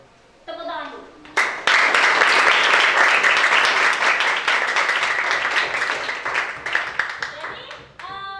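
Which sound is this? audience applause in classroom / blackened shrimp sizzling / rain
audience applause in classroom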